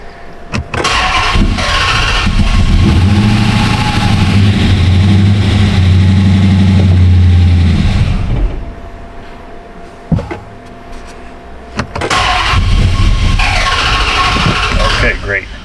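A 2009 Dodge Challenger cranks and fires, then settles into a loud, steady idle for several seconds before dropping off, with people talking over it and a second start near the end.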